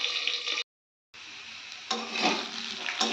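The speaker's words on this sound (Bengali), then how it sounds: "আর আলুটা একটু ভালোভাবে ভেজে নেব" Potatoes fry alongside fish in a pan, producing a bright, continuous sizzle that swells louder as they are stirred, interrupted by one brief silent gap.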